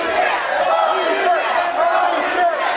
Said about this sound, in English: they got the holy shit chant and everything